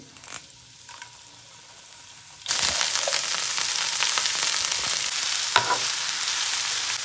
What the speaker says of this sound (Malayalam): എണ്ണ ഒഴിച്ച് കടുകിട്ട് വറ്റൽമുളകിട്ട് വേപ്പില ഇട്ട്